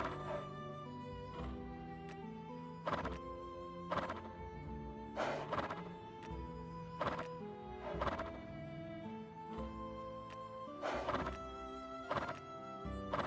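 A horse in the medieval game Life is Feudal whinnies repeatedly, loud, close neighs recurring every second or two over a busy layered game soundscape, with hoof thuds mixed in.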